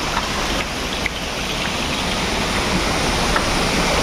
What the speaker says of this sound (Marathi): धबधबा गवली देवचा धबधबा लोकेटेड घनसोली.